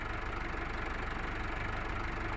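An old farm tractor's engine idles steadily with a low, rhythmic chugging thrum, moderately faint and continuous, with no voices over it.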